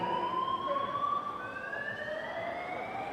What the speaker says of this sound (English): Ladies and gentlemen, that's the fire alarm.